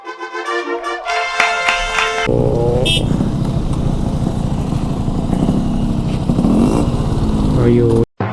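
A motorcycle rides and pulls in to park near a beach, its engine droning loud and close with a steady rumble after a brief musical opening, with a short cutoff near the end and voices around.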